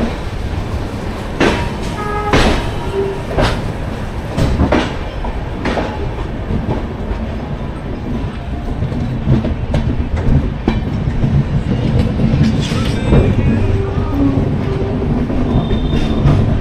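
The 12343 Darjeeling Mail, just departed Sealdah station, rolls along the rails with a loud, close rumble and rhythmic clickety-clack wheel beats, plus occasional metallic squeals, continuing steadily throughout without speech.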